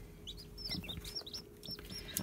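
Young chickens, a mix of pullets and cockerels pecking at each other, cluck and chirp in quick, overlapping bursts. The calls are soft and fairly close, over a low background hum.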